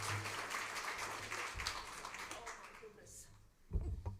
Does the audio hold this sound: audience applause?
yes